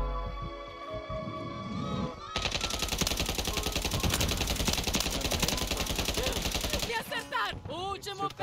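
Rapid automatic gunfire in the video game Call of Duty Modern Warfare 3, a loud dense burst of rattling shots lasting several seconds, bracketed by other game sounds and scattered sharp noises.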